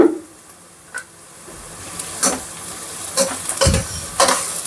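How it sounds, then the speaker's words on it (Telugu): Curry leaves and green chillies hitting hot oil in a pan while cooking mushroom masala curry, giving a steady close sizzle with sharp crackles and pops scattered throughout, no voices. "కొంచెం కరివేపాకు వేసుకుందాం, ఫ్లేవర్ బాగుంటుంది కరివేపాకు."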